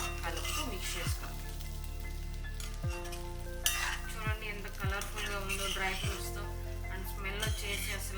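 Sweet chakkara pongal is stirred in a pan over a gentle sizzle, with a spoon scraping the bottom in regular strokes about once a second, close and continuous.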